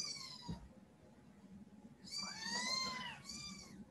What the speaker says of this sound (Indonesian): ada kucing, mohon maaf.